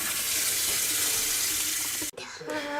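Water runs steadily from a tap while a Braun Series 7 shaver is rinsed. The flow is briefly interrupted and then splashes back in close by.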